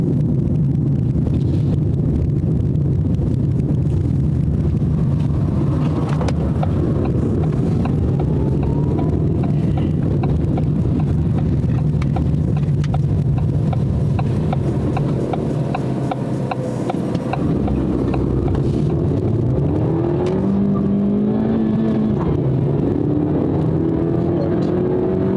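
Ford Fiesta S 1.5 pulling under acceleration while driving, a sustained engine drone rising in pitch through the gears with wind and road noise mixed in, heard from inside the car without talk.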